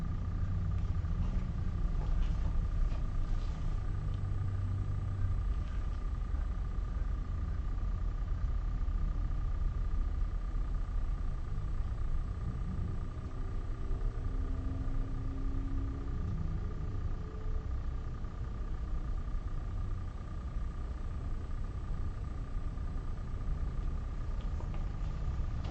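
A steady, low engine rumble fills a garage as a Ford Festiva donor car with an automatic transmission is eased forward to go up on jack stands. The drone stays even throughout, with a faint constant whine above it.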